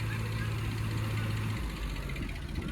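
A tractor engine idles and labors close by with a low, steady hum that drops in pitch partway through, in a field where tractors are stuck.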